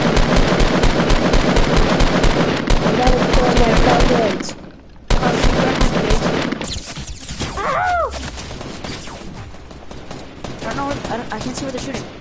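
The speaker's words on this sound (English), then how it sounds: "I can't see where they're shooting." Rapid bursts of automatic gunfire and single shots crackle through a Fortnite match, loud and dense, cutting out briefly midway before resuming, with players talking over the shooting.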